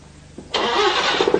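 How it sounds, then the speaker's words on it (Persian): A Paykan car with electronic voice control cranks and its engine catches at once, settling into a steady, fairly loud idle close by, with no talk over it. "موتور روشن بکن."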